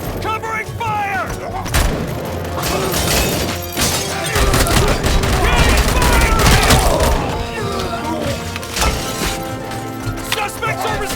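Loud gunfire and booming blasts rattle through a RoboCop Rogue City firefight, with dense overlapping shots, mechanical clanks and shouted voices layered over the chaotic battle.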